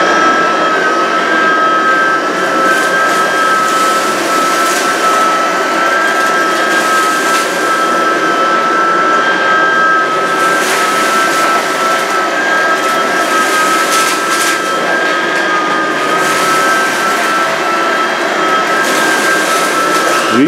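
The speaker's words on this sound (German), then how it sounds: "Vielleicht saugen wir erstmal einfach nur die Hälfte" A Cecotec Conga Rockstar 10000 cordless vacuum cleaner runs on carpet in auto mode, a loud, steady whirring drone with a faint high whine, unbroken throughout and close by.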